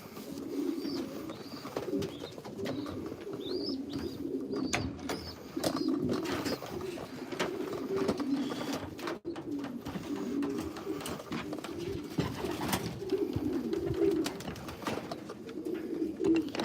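Steady, low racing pigeon cooing fills the loft, with continuous overlapping coos from several birds nearby, occasional faint chirps, and scattered clicks and rustles.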